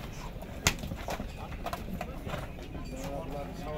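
Horses walk at a busy horse market, their hooves clip-clopping in a quick uneven rhythm against a dense crowd murmur, with people talking nearby.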